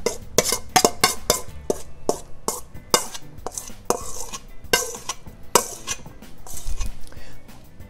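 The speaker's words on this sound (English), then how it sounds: "And now we're going to add this macaroni into this dish." Dry macaroni clattering and tapping into a baking dish and being spread around, a rapid series of sharp, close clicks and rattles with pauses between bursts.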